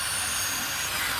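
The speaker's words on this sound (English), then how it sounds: "So take a 1/8 inch drill bit" A power drill pre-drilling pilot holes with a 1/8 inch bit for storm door trim, a continuous high whine held steady through the short clip, close and loud.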